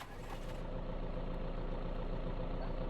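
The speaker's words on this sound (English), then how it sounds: "Let's start the engine." A vehicle engine in the video game Vein starts and settles into a steady low idle, a soft even rumble that holds throughout.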